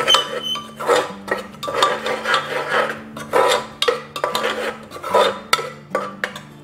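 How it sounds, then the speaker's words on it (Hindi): Metal utensil scraping and stirring in a pan as tomato paste goes into spices frying in oil for a spicy water chestnut curry, with steady rhythmic scrapes over a low hum. "और अब इस स्टेज पे हम इसमें अपने टमाटर का पेस्ट डाल देंगे।"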